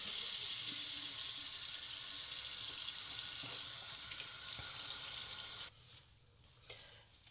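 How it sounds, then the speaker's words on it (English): Gloves are rinsed under a running kitchen tap, a steady close hiss of flowing water that cuts off abruptly near the end, followed by a few faint handling knocks. "Excuse me, I'm going to wash these gloves a little."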